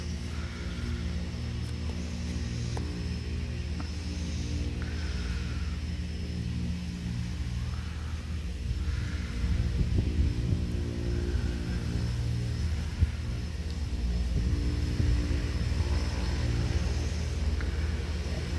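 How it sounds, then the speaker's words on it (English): A skydivers' propeller aircraft taking off from Pennridge Airport gives a steady, broad engine roar throughout, swelling slightly louder in the second half as it powers up. "This is going to be of the airplane taking off."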